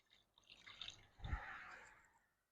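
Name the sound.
vinegar being poured into a container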